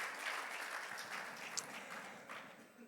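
A church congregation applauding during a Sunday service, a dense sustained wash of clapping from many hands that carries evenly throughout, no speech over it.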